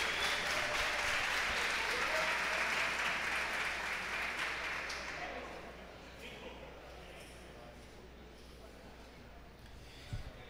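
Audience applause at a Spanish spearfishing championship weigh-in, strong at first and then thinning out over several seconds into quieter background noise with a few scattered sounds near the end.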